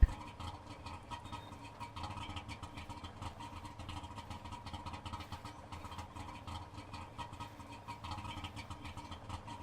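A two-stroke car engine idles in The Long Drive video game, a steady, fast, buzzy putter with an even rapid rhythm, fairly quiet and heard alone throughout.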